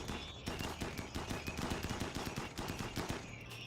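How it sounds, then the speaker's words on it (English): Rapid machine-gun fire from shooting enemies in RimWorld rattles in a dense, continuous stream of shots, moderately quiet and without any talking. "Let's start gunning these down. Yep, we're gonna need to start shooting."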